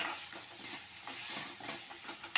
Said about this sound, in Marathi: एक मोठा चमच्यावर ओलं खोबरं घालायचं आहे म्हणजे ओला नारळ घालायचं आहे आणि परतवून घ्यायचं आहे दोन मिनटं